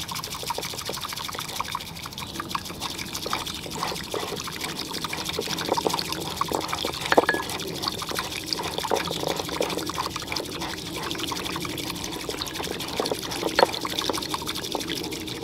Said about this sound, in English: And now I can add a little bit of water.